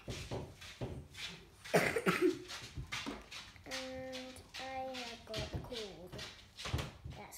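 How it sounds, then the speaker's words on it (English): A few short, harsh coughs burst out close by, mixed with some bumping sounds and a brief dog-like whine. "I'm coughing."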